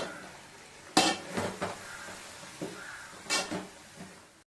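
Spoon scraping and clinking in a pan while spice masala of turmeric, sambar powder and tamarind curry masala is stirred for a fish gravy, with a few sharp metallic knocks and softer scrapes amid quiet sizzling.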